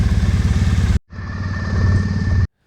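A Triumph Bonneville T100 motorcycle engine idles close by with a loud, even pulsing beat, cutting out briefly, then restarting and running steadily again before stopping abruptly.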